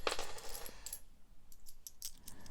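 Coins drop into a coin pot with bright, close metallic clinks and jingles in several quick bursts, separated by brief quieter moments.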